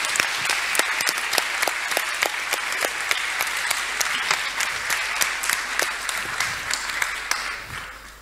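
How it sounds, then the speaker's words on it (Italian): Sustained applause from an audience at a round-table book presentation in San Giorgio Canavese, honoring the author; dense clapping with some sharper individual claps, steady throughout and tapering slightly at the end. "alla quale chiedo di fare un applauso"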